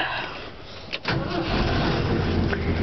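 Ford F-100 truck cranking briefly before catching and settling into a steady, close rumbling idle.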